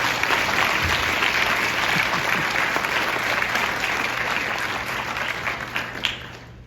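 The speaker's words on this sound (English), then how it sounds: "So can we give them a round of applause?" An audience at a school band awards ceremony applauds with sustained, dense clapping that tapers slightly toward the end.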